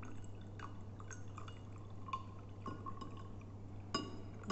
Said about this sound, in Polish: Następnie wlewamy wodę pomalutku z brzegu.